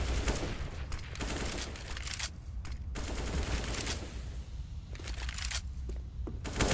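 Rapid gunfire bursts in Counter-Strike on the Cobblestone map during a major tournament final, loud rattling volleys separated by short gaps, with crunchy impacts layered over a constant background rumble.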